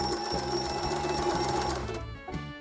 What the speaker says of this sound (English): Audio-wise, this is not going to be satisfying for you because sewing machine.